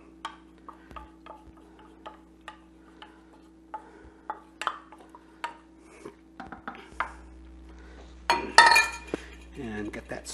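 Barbecue sauce being stirred into meatballs in a slow cooker, with a series of light clinks and scrapes of a utensil against the pot, then a louder clatter near the end, over a steady background hum.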